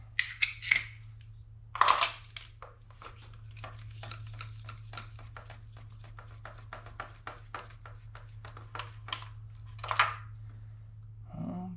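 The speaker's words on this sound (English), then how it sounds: "we are just going to take our spark plugs out" A ratchet and socket remove the spark plugs from a Mini Cooper S R56 engine, giving a long run of quiet, steady clicks with a few louder metallic scrapes, close-up over a constant low hum.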